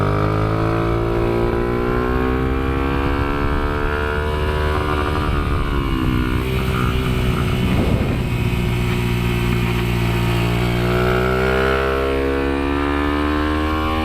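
A highly modified Kayo MR125 pit bike screams around a kart track, its close, loud engine rising and falling in pitch as the throttle opens and closes through corners, dipping briefly midway before revving back up.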